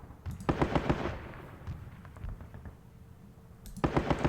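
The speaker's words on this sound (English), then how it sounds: "Oh, I just used the rifle." Rifle volleys in the wargame Squad Battles: Winter War, heard as sharp crackling bursts of several rapid cracks near the start and again at the end, with a quieter stretch of scattered pops between.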